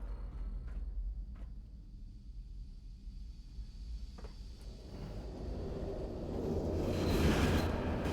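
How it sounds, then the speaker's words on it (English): A train rumbles past in the Fallout: London video game, a low continuous roar that gradually swells louder toward the end. "Did I just, like, hear a train?"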